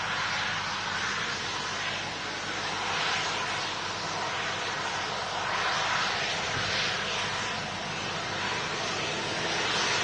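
Lufthansa airplane crossing a runway, a continuous broadband engine roar that stays steady and fairly loud for the whole stretch, heard from a distance without voices.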